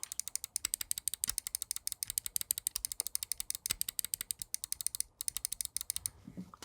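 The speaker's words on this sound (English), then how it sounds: "I'll compare back and forth between this mouse and the Hottie, which I feel like has some of the best clicks" Hottie gaming mouse buttons clicked over and over, giving crisp, sharp close-up clicks in a quick, steady rhythm with no voices.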